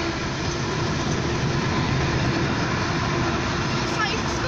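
A train rolls past nearby at a steady loud rumble, with broadband rail noise lasting the whole stretch, and a voice talks over it.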